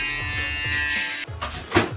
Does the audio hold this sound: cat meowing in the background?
no